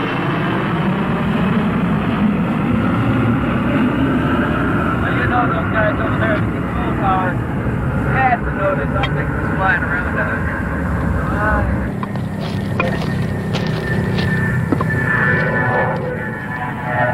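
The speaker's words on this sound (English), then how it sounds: "a C-141 coming this way to altitude. I'm gonna go right over." A C-141 military transport aircraft climbs out from a nearby landing pattern and passes directly overhead, its loud, steady engine roar filling the whole stretch with wind buffeting the microphone and a voice speaking over it.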